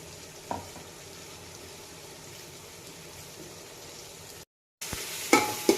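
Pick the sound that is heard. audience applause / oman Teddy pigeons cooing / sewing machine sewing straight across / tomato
tomato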